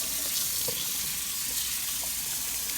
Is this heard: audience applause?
no